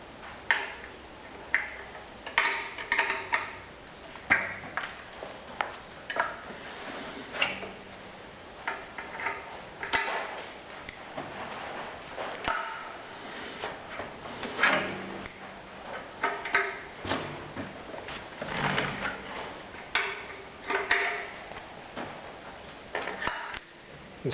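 Hold-down bolts being tightened on a sand mixer bowl during an overhaul, giving a steady series of sharp metallic ticks and clinks from a wrench, close by and irregular, with no talking.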